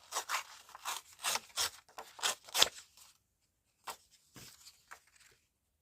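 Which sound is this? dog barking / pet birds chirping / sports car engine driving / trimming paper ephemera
trimming paper ephemera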